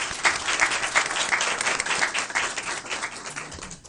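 Audience at a school board meeting applauding an honoree, sustained crisp clapping at moderate distance with a few sharp individual claps standing out.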